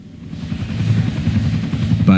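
A helicopter flies nearby during an airlift evacuation of holidaymakers in the Austrian Alps near Landeck, its loud, rapid, steady rotor chop thudding close up throughout.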